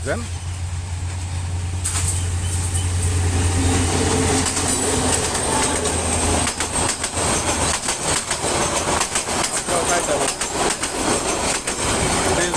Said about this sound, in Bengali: নাসিরাবাদ এক্সপ্রেস ওই যে ট্রেনটা